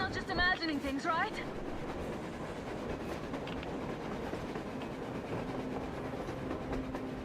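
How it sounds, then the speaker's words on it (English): A train rolls across the snowy surface during a blizzard in the video game Metro, a steady rumbling clatter of wagons underneath. A voice calls out at the start, partly over the noise. "A train! A damn train on the surface!"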